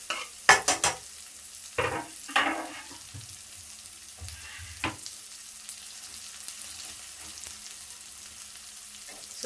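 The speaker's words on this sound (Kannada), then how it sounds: "ಈಗ ಇದನ್ನು ಸ್ವಲ್ಪ ಫ್ರೈ ಮಾಡ್ಕೊಳ್ಳೋಣ" Finely chopped onions fry gently in oil over low flame with a faint, steady sizzle, broken by a few sharp scraping stirs early on, then settling into quiet frying.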